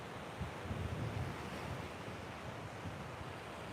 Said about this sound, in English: Wind's slightly blowing over us now.